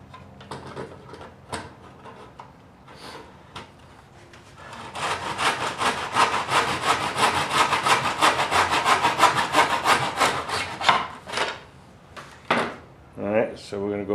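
A hand saw cuts small wood pieces held in a miter box, giving a long run of rapid, rhythmic rasping back-and-forth strokes. Light knocks and handling come before the sawing and after it, all close.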